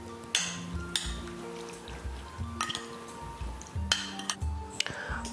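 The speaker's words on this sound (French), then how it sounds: "Je mélange le tout" Soup ingredients with paprika and fish sauce being stirred together for a Thai soup, with repeated clinks of a utensil against the pot and soft liquid squishes in a steady, close, busy rhythm.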